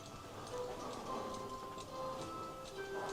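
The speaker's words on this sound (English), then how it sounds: "I love a good cuckoo clock." Cuckoo clocks tick in a large Christmas store in Rothenburg ob der Tauber, a faint steady ticking mixed with shop ambience, soft tones and distant murmur.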